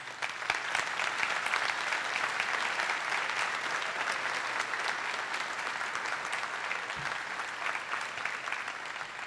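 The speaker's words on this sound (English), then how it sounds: "we should all provide a big round of applause for the many years" Sustained audience applause for retiring command staff at a public safety promotion and swearing-in ceremony, a dense, even patter of many hands lasting the whole stretch at moderate distance.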